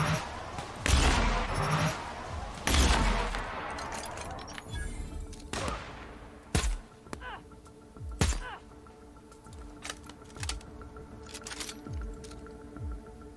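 Video game gunshots ring out as a few sharp, separate booms and thuds, each with a short decaying tail, spaced irregularly over a quieter background with no talking.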